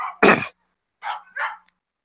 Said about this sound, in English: She wants to bark at people on the bike path.